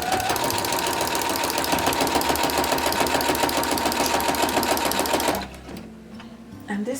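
Sewing machine stitching a pumpkin table runner quilt, running fast and steady in a close, loud continuous rattle for about five seconds before stopping.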